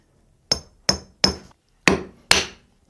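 Five sharp hammer blows ring out alone at a steady pace, striking the group head of a Flair 58 manual espresso machine to knock the shower screen free, each hit close, loud and metallic with a short decay.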